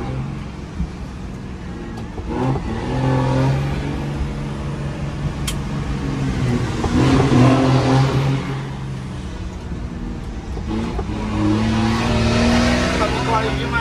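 A scooter accelerates beneath a viaduct, its engine note rising and swelling in a couple of revving surges against steady road noise, with people talking over it.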